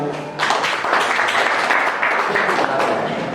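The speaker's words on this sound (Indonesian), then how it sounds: "Terima kasih kelompok 2. Tepuk tangan dulu." Classroom students clap for a presenting student group, a dense, even burst of hand claps that starts abruptly and holds steady at close range.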